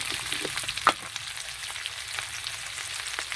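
Taro root and potato frying in a pan, a quiet continuous sizzle and crackle with one brief utensil knock, close and low in level.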